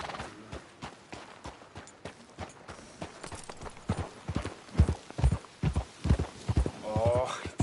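Horse hooves clip-clop in Red Dead Redemption 2, an irregular run of hoofbeats that grows louder under steady talking, with a short whinny near the end.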